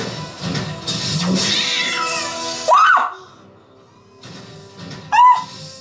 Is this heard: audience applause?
no